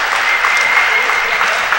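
Crowd in the bleachers at a Coal Bowl game applauding a player after a hard crash, steady broadband clapping with some cheering and voices throughout, close and fairly loud.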